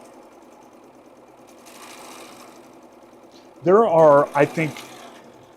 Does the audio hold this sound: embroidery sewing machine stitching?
yes